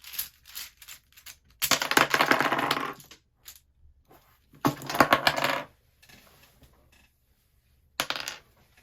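Small plastic pieces of a floppy 5x5 twisty puzzle pop loose and rattle in several short, clattery bursts separated by quiet gaps, close and fairly crisp.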